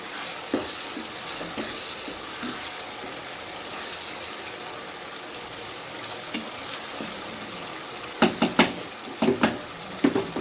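Keema gobi, spiced mince with cauliflower, cooking in a pan with three or four green chillies added, giving a steady soft sizzle and frying hiss with a few louder stirring clatters near the end.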